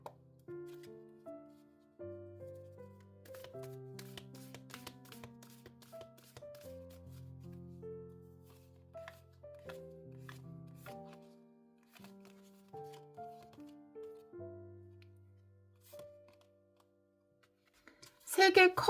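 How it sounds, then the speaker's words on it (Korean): Tarot cards shuffled by hand, soft riffling and flicking in short bursts under steady gentle background music, close and quiet, with a louder rustle near the end. "자, 그러면 타로 카드 볼게요."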